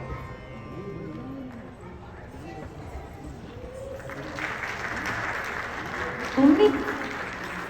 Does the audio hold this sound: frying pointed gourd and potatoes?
no